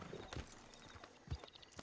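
Horse hooves clip-clop in the video game Red Dead Redemption 2 Online, a few uneven, fairly quiet thuds over soft background ambience.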